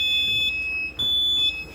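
A brand new school fire alarm system sounding during a test, a loud piercing electronic alarm tone that holds steadily with brief dips and shifts in pitch, close and without talk.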